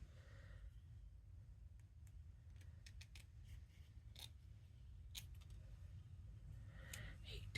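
Scissors snip along a paper edge in a few quick, separate cuts over a quiet room hum, faint and close, with no voices.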